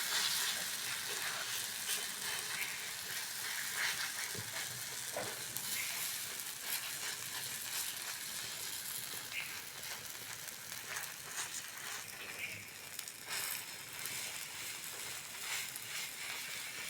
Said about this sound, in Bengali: উনুনে একটা চাটু বসিয়ে দিয়েছি, অল্প অল্প তেল দিয়ে টিফিন রেসিপিটা ভেজে নাও।